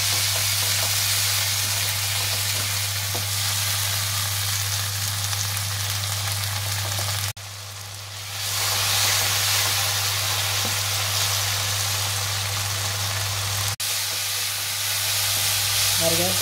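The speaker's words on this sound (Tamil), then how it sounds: "இதுக்கு அடுத்து இந்த தக்காளியை போட்டு நல்லா வதக்குங்க. லேசாக உப்பு போட்டு வதக்குங்க." Tomatoes with salt sauté in a hot pan, a loud, steady close sizzle with a constant low hum beneath and short breaks where stirring pauses.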